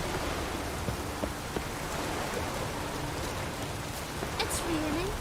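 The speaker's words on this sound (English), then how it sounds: "It's raining." Rain falling in the video game Witcher 3, a steady hiss of rainfall on surfaces with soft scattered drops, moderately loud, plus a few faint tonal game sounds and brief speech-like murmurs in the background.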